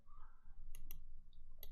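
Several sharp computer mouse clicks from a right-click land in quick succession, close and crisp over a low background hum, with a faint murmur of voice early on.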